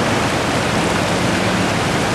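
Deep, fast-flowing river water rushing in a dense, steady, loud roar close by, unbroken for the whole stretch with no voices.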